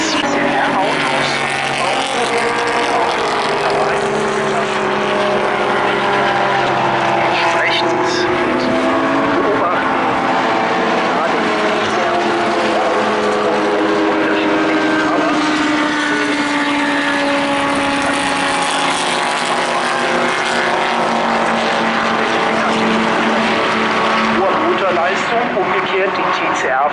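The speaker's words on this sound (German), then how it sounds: "Die TCR-Fahrzeuge, die fahren mit Fronttriebler 350 PS, wie beispielsweise Max Krohn, aus dessen Cockpit wir jetzt das Ganze beobachten" Onboard a 350 hp front-wheel-drive TCR touring race car, the engine drones and revs continuously with rising and falling pitch through gear changes, loud and close, while a commentator talks over it throughout.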